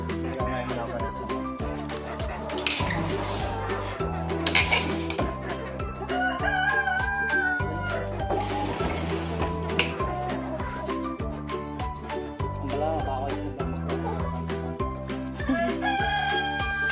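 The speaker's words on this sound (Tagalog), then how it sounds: "sa aming manok dito sa kabila" Free-range chickens cluck while a rooster crows now and then across a yard, partly buried under steady rhythmic background music with someone talking.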